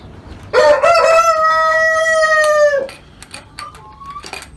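A Brahma ornamental rooster crows once, loud and close, a long drawn-out call lasting about two seconds, followed by quieter clucking from chickens in the background.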